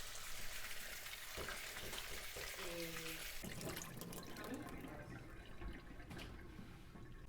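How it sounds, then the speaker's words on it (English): Tap water runs over potatoes being washed, a steady close hiss of flowing water with brief knocks and shifting splashes, while a person talks over it. "Wash potatoes first."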